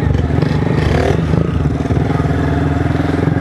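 Motorcycle engine revving hard and steadily throughout during a wheelie, loud and close with a dense rough low drone and some clatter.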